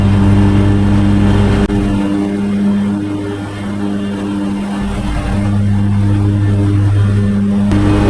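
A lawn mower engine drones loudly nearby, its pitch sagging and labouring as it bogs down in thick, wet, clumpy grass, then partly recovering.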